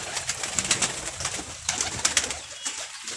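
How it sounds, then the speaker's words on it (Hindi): Several pigeons coo and flutter close by in repeated soft bursts over a steady background murmur. "ये कुछ कबूतर फिर रहे हैं नीचे।"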